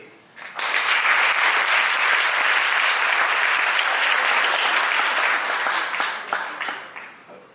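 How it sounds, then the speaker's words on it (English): Sustained audience applause fills an awards gala hall, a dense wash of clapping that starts abruptly, holds steady at full strength, then gradually thins and fades toward the end. "a round of applause for all of you and the amazing women of Wlda and the things that you do"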